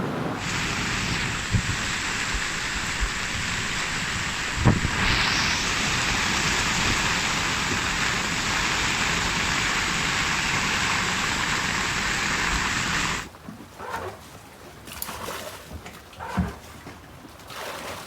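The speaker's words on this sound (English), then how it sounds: "You could say we've had some rain." Steady heavy rain hisses continuously for most of the clip, then cuts off abruptly, leaving quieter outdoor ambience with scattered faint drips and knocks.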